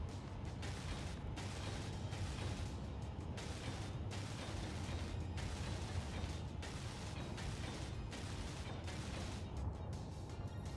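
A tool welds a block in Space Engineers, a steady gritty mechanical grinding hiss with a regular ratcheting pulse, held at a constant low level throughout.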